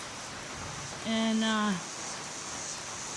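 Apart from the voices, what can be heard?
rain falling on a trail shelter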